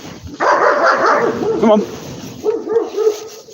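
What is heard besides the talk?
dog barking at a fence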